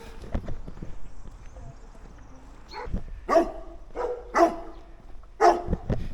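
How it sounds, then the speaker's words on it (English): Several guard dog barks ring out at a moderate distance on a hill in Spain, spaced a second or so apart, over outdoor ambience and footsteps. "There must be guard dogs"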